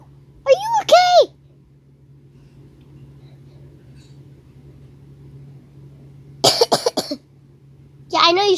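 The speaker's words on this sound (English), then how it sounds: "You just coughed." Three bursts of a cartoonish character voice, likely Sonic or Super Sonic, coughing or hacking, spaced apart over a low steady hum, loud and close.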